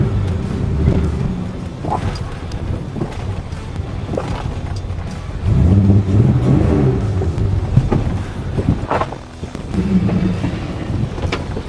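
An older BMW car rolls and slows during a brake test, giving low, uneven engine and road rumble with bursts of wind buffeting against the microphone and a few dull thumps.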